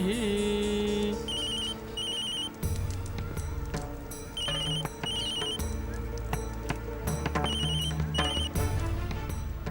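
A repeating telephone ring, electronic and fairly loud, from a Tamil television serial, with trilling bursts recurring across the scene over music and background sound effects.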